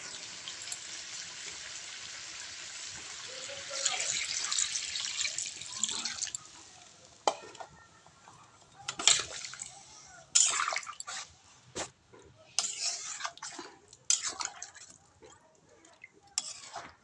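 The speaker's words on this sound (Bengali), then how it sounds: "মাংসটা আবার কষানো হয়ে গেছে, জল দিয়ে দেবো।" Water pours into a pot of browned chicken curry, a steady broadband rush for the first several seconds, followed by intermittent splashes, clinks and bubbling bursts close by, with no talking.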